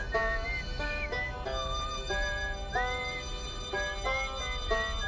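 A traveler whistling a melody in the space exploration game Outer Wilds, clear sustained whistled notes rising and gliding in a tune with a faint background hum.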